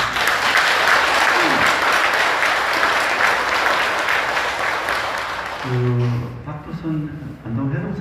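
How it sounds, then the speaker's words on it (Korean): Loud, steady applause from an audience at a Buddhist dharma talk, continuing for several seconds before fading as a voice begins speaking near the end. "박수 한번."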